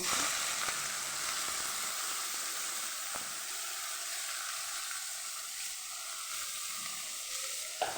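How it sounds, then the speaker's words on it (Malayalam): Mustard seeds finish popping in hot oil in a pan for a carrot and bean thoran, giving a loud, continuous close sizzle and hiss with no speech. "കടുവെല്ലാം പൊട്ടിക്കഴിഞ്ഞ്"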